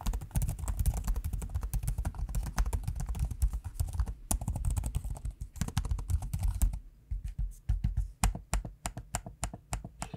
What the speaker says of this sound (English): what the trackpad and the keyboard sound like in use, here's a quick audio sample